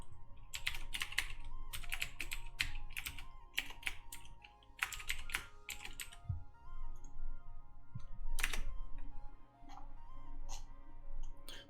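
Typing on a computer keyboard during a process control software lab, rapid irregular clusters of crisp key clicks in quick bursts with short pauses, close and fairly quiet, no talking.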